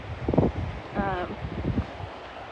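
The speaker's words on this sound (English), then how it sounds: "I will apologize in advance for the wind." Gusty evening wind at a winter beach buffets a phone microphone with low rumbling bursts, while a voice speaks briefly underneath.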